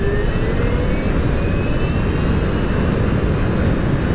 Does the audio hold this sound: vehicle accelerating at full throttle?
yes